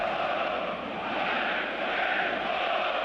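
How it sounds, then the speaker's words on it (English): Dense football stadium crowd at Old Trafford during Partizan versus Manchester United, a loud continuous roar of many voices with chanting swells, steady and enveloping throughout. "Amazing crowd, amazing atmosphere, isn't it?"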